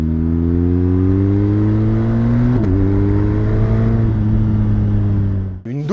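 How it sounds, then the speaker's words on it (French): A BMW R 1250 RS boxer-engine motorcycle revs up loudly and close, its deep twin-cylinder drone rising steadily in pitch, dipping briefly after a sharp blip, then cutting off abruptly at the end. "on a donc ici le même moteur que BMW utilise depuis plus de 100 ans, le Boxer"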